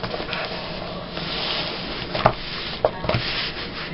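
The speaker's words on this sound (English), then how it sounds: "I do need to trim this edge off a little bit" Paper trimmed at the edge of a page in a Victorian gluebook, a steady close rasping and rubbing with a few sharper ticks and taps, no voices.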